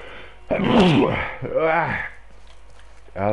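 A single forceful sneeze, sudden and close, with a loud explosive burst followed by a trailing vocal release, then a brief pause before a voice begins speaking.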